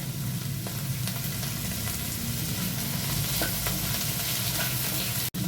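Red and green bell peppers stir-frying in a pan with onion, a continuous close sizzle and crackle under occasional stirring, no talking.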